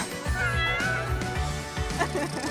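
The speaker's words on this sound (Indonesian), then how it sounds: "Oh, kamu nemuin kucing aku." A pet cat meows several times in a row at close range, with harmonic cries rising and falling against a busy background, and no clear talk over it.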